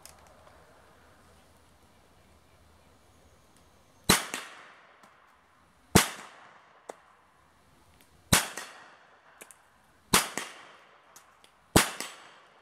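Thompson submachine gun fired five rounds from its magazine outdoors, single sharp reports spaced about two seconds apart, each with a ringing echo, over a quiet background.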